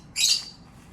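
A single short, sharp squawk from a bird in a bird reserve rings out close and fairly loud, then fades into a quiet background.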